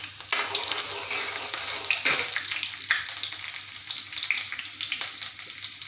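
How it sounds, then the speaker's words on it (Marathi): Finely chopped onion sautés in a pan with a bright, continuous close sizzle, broken by stirring and a few watery splashes and bursts of hissing, all without speech. "छान असा मस्त हलकासा कांदा आपला परतल्यानंतर"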